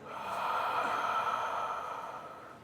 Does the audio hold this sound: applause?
no